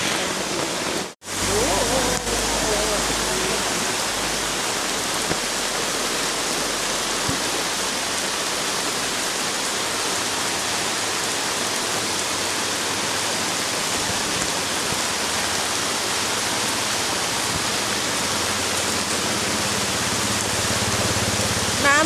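Flash flood water rushes through the streets of Mae Sai town in northern Thailand, a loud, steady broadband roar like a waterfall that continues without letup, with voices faintly audible beneath it.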